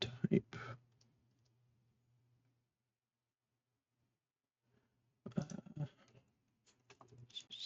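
Typing on a computer keyboard: short bursts of quick, close key clicks at the start and again after a long quiet stretch with a faint hum.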